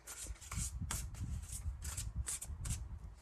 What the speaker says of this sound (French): On va prendre, les amis, quelques messages d'oracle et puis on va découvrir donc les 3 cartes.